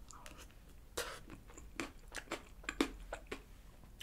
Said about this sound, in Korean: 그리고 중간중간 톡톡 터지는 요 크런치볼의 식감도 재밌고 맛있습니다